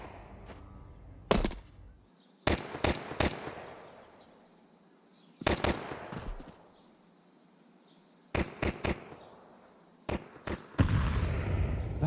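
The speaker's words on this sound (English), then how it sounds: "That is like an unusual amount of grenades to have on a pistol round." Grenades exploding during a Counter-Strike pistol round, several sharp, loud blasts arriving in clusters of two or three, each trailing off into a decaying rumble, with quieter gaps between groups.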